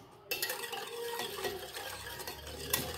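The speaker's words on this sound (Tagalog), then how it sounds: "Haluin lang natin." A continuous scraping, swishing stir of red gelatin mixture inside a pot, with faint clinks of a utensil against the sides.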